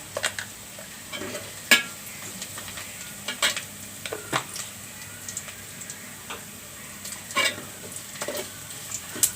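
Nigella seeds (kalonji) sizzling in a hot oiled pan for a dal with masoor lentils and tomato, a steady soft crackle broken by sharp pops and spoon clicks against the pan, close and with no talk.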